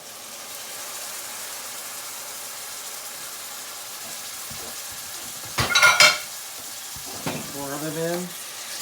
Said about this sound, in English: we're going to turn the heat to high now. So we're actually going to add our tomatoes.